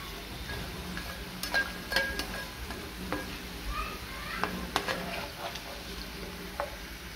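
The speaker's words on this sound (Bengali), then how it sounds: "আস্তে আস্তে ভাজলে খুব বেশি মচমচে হবে, বেশি ভালো হবে।" Murali, a crisp flour snack, frying slowly in oil in a home kitchen: a soft, steady crackle with scattered sharp clicks and scraping stirs, and faint voices in the background.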